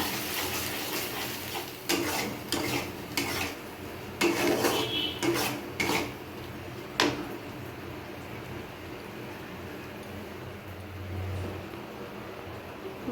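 Mixed spices are sautéed in a pan, with a metal spoon scraping and clattering in uneven bursts over a faint sizzle, then settling into quieter frying with no talk.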